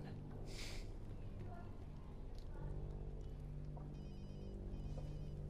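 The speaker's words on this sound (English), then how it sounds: "You probably want to pick up that phone." A telephone rings inside the video game Watch Dogs 2, a faint repeating electronic ring beneath game sounds and background noise toward the end.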